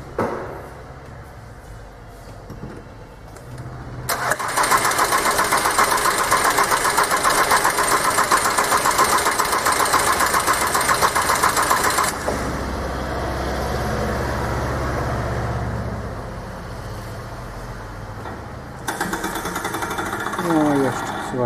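A diesel engine with a repaired Delphi injection pump cranks steadily for several seconds. It then catches and settles into a loud running note that fades to a lower idle, and someone talks over parts of it.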